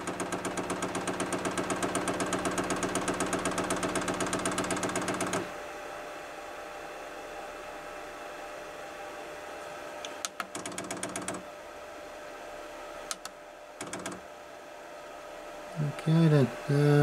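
A Chinese diesel heater's fuel pump primes with a fast, steady mechanical ticking for about five seconds, loud and close, then stops, leaving low hum and a few scattered clicks and knocks.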